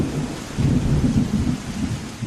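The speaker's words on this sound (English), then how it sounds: "It was a dark and stormy night." Thunderstorm sound effect: steady rain with deep rolling thunder swelling and rumbling throughout, loud and continuous, with no voices.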